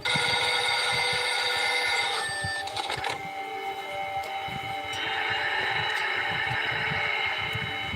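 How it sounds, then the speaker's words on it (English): An electronic telephone rings loudly with a warbling, tonal bell pattern that pauses briefly and then resumes, heard alone without any talking. "everything escalates with a phone call"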